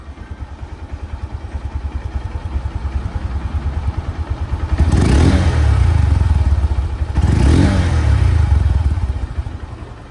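A double-disc Honda Hornet motorcycle runs in showroom condition, its engine throbbing steadily up close with two louder surges of revving, no talk.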